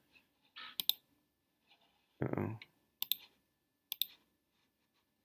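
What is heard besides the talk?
mouse clicks on the ghoul in a Scratch game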